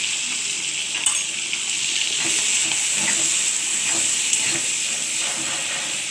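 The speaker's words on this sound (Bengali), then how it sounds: "চিংড়ি মাছটা আমি ভাজতে বসে দিলাম" Prawns frying in a pan with salt and turmeric, giving a steady close hiss and sizzle with faint stirring clicks throughout, no talking.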